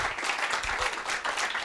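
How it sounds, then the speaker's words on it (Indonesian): A church congregation at a Christmas Sunday service claps together, a short burst of brisk, steady applause that fills the room at moderate volume. "Tepuk tangan buat Tuhan dong"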